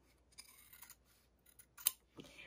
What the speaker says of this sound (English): just trim with my fabric scissors